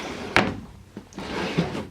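A wooden dresser drawer in a nursery slides and knocks once sharply up close, followed by a couple of softer bumps and rustling as baby clothes are handled.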